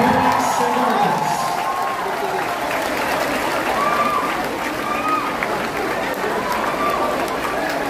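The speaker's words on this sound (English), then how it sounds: "Resounding round of applause for Lutheran parents and guardians." A graduation ceremony crowd applauds parents and guardians, a big, steady wash of clapping and murmured crowd noise that runs unbroken throughout, with voices blending in among the clapping.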